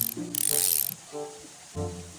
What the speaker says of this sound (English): added all the little nuts and bolts, and firmly tightened them to the wheel